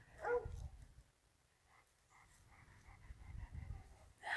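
A husky gives faint, soft barks and whines at a distance, one burst early and another near the end, with quiet breathing-like noise between.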